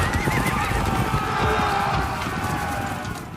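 Very fast horses gallop and whinny across a muddy, slippery field on a film set for a large battle scene. Loud, close neighing rides over a dense, continuous rumble of hooves.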